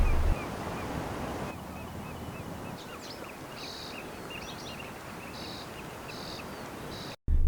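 Water laps and washes steadily at a harbour pier where colourful fishing and tour boats bob, with wind buffeting the microphone and faint bird chirps above.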